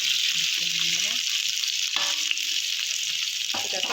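Indomie goreng noodles sizzle in a pan with sardines as a little water is added, a constant close frying hiss while a voice talks in short bursts over it.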